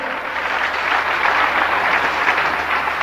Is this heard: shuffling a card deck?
no